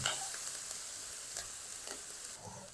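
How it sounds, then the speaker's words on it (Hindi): Green chillies and dried fenugreek leaves fry in a pan, giving a soft, steady hiss with light scraping, fairly quiet and close. "आधा टीस्पून कसूरी मेथी और आधा मिनट तक हम इसको भी फ्राई कर लेंगे"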